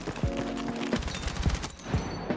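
Rapid automatic gunfire in Battlefield 6 while the player runs and snaps to aim, a tight burst of repeated sharp shots over about two seconds, close and punchy.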